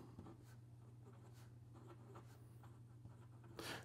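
A medium stainless steel nib on an Otto Hut Design 4 Blue Wave fountain pen, inked with Penliter turquoise, scratches softly across paper in a continuous close, quiet scribble with brief strokes and lifts.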